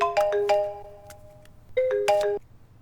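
A mobile phone ringtone plays a short melodic chime, two bursts of bright electronic tones separated by a brief pause, clear and alone.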